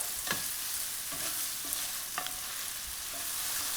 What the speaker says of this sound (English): add in 2 red onions, finely minced. A quick saute till you get it to that luscious pink color